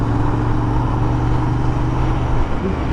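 Motorcycles pass along a narrow, busy road, a loud, continuous engine and road roar that holds steady close by for the whole stretch.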